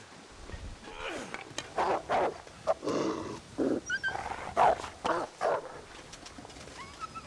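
A dog or wolf growls in The Long Dark, a survival video game, in a series of rough, close bursts with short pauses between them and no talk over it.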